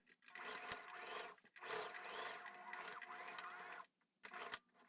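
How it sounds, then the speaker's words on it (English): A domestic sewing machine stitches a trouser seam at a half-inch allowance, running in steady rhythmic bursts of mechanical whirring and needle clatter with short pauses between runs, close and clear with no talk. "So I'm going to stitch right here, 1/2 inch seam allowance."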